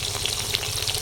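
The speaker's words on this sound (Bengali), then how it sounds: "আমাদের মাছ ভাজা হচ্ছে এখানে" Snakehead fish frying in a pan with spiced oil, a dense steady sizzle close by and loud throughout, with no one speaking.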